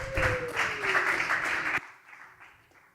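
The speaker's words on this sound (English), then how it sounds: "So a great applause for We Run," Audience applause for an app team at a coding bootcamp demo day in Lisbon, a dense burst of clapping that cuts off sharply midway, leaving a fainter scatter of claps trailing behind.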